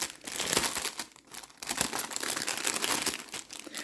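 Plastic wrapping on a diamond painting bookmark package crinkles and crackles steadily up close as it is torn open, with irregular bursts of rustling throughout.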